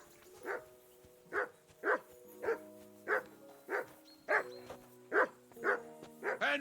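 A dog barking in the video game Kingdom Come: Deliverance II, about a dozen clear, evenly spaced woofs over steady background game music.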